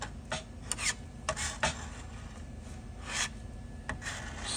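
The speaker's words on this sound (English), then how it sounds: "You apply the putty, fill in the spots," UV repair putty being applied and spread over a composite surface, a series of soft irregular rasping scrapes, quiet and close with no voices.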